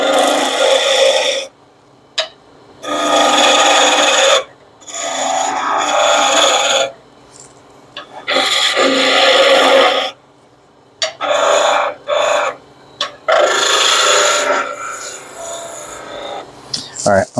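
A skew chisel cuts a wooden tool handle spinning on a lathe, producing loud, hissing shaving bursts of a second or two each, separated by brief silent pauses as the cutting passes repeat.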